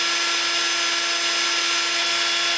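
A Woodpecker 3018 CNC spindle motor on a PWM drive runs steadily at 20,000 RPM, giving a loud, constant high whine with a fixed tone and broadband hiss, unbroken and alone.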